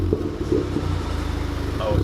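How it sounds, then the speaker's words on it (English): Car engine idling and revving at an E85 car meet, a steady rumbling growl with brief rises in pitch, close and fairly loud, with people talking over it. "Surely give us some revs."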